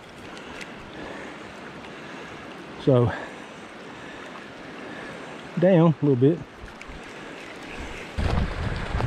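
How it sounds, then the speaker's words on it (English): White water rushing over river rapids at a trout stream in River Valley Campground, Cherokee, North Carolina: a continuous broad roar with wind buffeting the microphone and someone speaking briefly over it. "We got the white water coming over the rapids"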